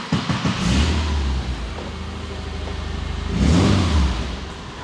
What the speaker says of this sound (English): So you've got this modern motor, but you still have this like old school Volkswagen Beetle Porsche sound